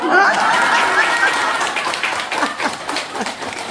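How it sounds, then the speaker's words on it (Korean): A group of people clap their hands together after someone is appointed class leader at the Deokpojin education museum. The clapping is dense and loud at first, then thins out, with a bit of chatter and laughter mixed in. "박수."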